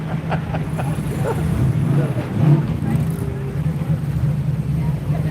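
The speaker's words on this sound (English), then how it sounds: "Love the way these cars sound" At a rally, car engines rumble and drone steadily nearby, with a crowd murmuring and voices chatting over the low motor noise.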